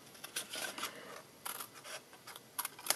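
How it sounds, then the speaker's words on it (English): Tin snips cut the cardboard of a large wine bottle box in short, separate close snips and crunches, with quiet pauses between the cuts. Nobody speaks. "Now, okay, snips. We get rid of this piece, so cut that at a wedge and just cut that straight up."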